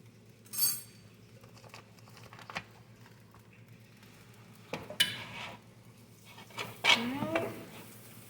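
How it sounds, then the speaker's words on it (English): Butter going into a cooking pot for a one-pot chicken and sweet potato meal: scattered clinks and scrapes of a utensil against the pot, sparse and fairly quiet, with brief sizzling and a few soft words. "I'm just going to put some more butter into this pot"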